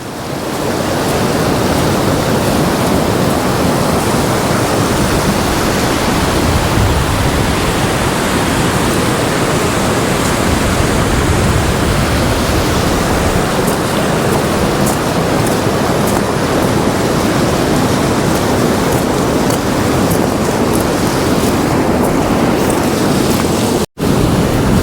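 Loud, continuous roar of a waterfall on the Isle of Skye, a steady full-spectrum rush of falling water close by with no letup and no talking.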